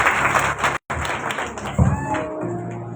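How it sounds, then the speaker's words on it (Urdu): A church congregation applauds during a worship service, welcoming guests with hearty clapping; a dense wash of many hands fills most of the moment, broken by a brief gap, with tonal music or voices rising near the end. "میں چاہتی ہوں تمام چہروں کو زوردار تالیوں کے ساتھ ہم اپنی آج کی عبادت میں خوش"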